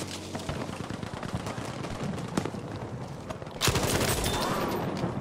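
BAR automatic rifle firing in Battlefield V, rapid bursts of sharp gunshots in quick succession that grow into a louder, denser volley near the end, close and forceful.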